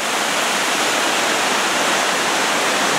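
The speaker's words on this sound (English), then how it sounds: "You hear the waterfalls, the water." Steady broadband rush of Cataract Falls near Fairfax, California, loud and continuous throughout with no pauses or voices.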